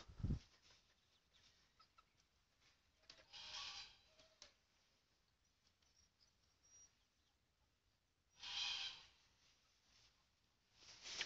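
Hens cluck faintly in the background, with occasional louder bursts of clucking amid a quiet, steady farmyard hiss.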